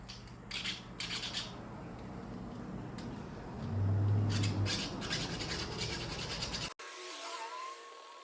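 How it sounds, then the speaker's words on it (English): A metal file rasping back and forth inside the square latch hole of a door strike plate, a steady close scraping over a low hum that ends abruptly near the end. "taking this metal file and filing down the inside of the strike plate"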